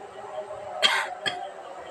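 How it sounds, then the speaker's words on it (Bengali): A person's cough, one strong burst followed by a shorter second one, fairly close against a quiet indoor background. "কাশিটা মাঝে মাঝে ভীষণ বাড়ছে"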